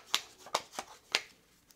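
Several quick clattering rattles of Simurgh board game tiles being shuffled, short bursts spaced unevenly, close and fairly loud.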